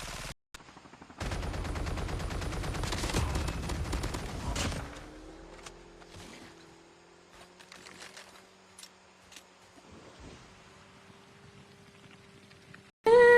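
A gun in a video game fires a rapid burst of automatic shots, loud and dense for a few seconds, then quieter game ambience with faint clicks and a hum follows.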